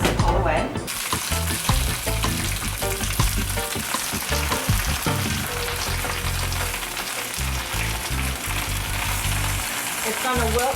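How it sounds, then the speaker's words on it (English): Spinach sautéing in hot oil in a frying pan gives a steady, loud sizzle with crackling pops and some stirring scrapes throughout, beginning with a brief clatter. "we're going to make sauteed spinach"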